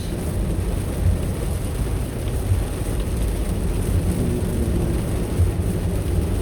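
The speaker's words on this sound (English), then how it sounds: "it's really raining" Heavy rain drums steadily on a car from inside the cabin, a dense continuous wash of noise with a low rumble beneath, loud and unbroken and with no voices.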